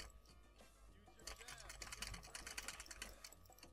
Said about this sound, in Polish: wybaczcie, że tak walę w tą klawiaturę, ale ta klawiatura jest taka głośna